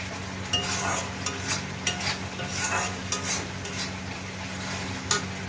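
Masala for khichdi fries and sizzles steadily in a pan while a spoon stirs it, giving soft periodic scrapes and taps over a constant low hiss close by.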